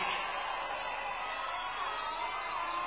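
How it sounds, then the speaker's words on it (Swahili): A large crowd at the grand launch of the Kisumu–Malaba SGR railway construction applauds for Yoweri Kaguta Museveni, a steady, even wash of clapping and cheering that holds at a moderate, slightly distant level throughout. "Wapi makofi ya mzee Yoweri Kaguta Museveni?"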